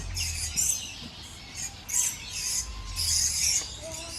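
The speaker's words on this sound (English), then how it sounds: "Quite a few different birds here. And they're flying everywhere." Many small birds chirp and tweet in bursts on a bush hike in the Blue Mountains of Australia, with high, quick calls coming and going over a quiet outdoor background.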